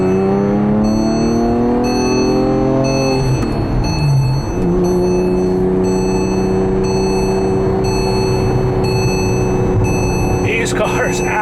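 A 2005 Porsche Carrera S with coilovers and a GT3 front nose drives hard on a test drive, its engine loud and steady from inside, rising through revs, dipping on a shift, then droning on.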